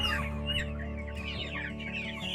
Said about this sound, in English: We've got 4 crates of birds.